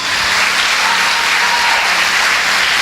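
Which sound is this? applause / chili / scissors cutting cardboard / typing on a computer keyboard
applause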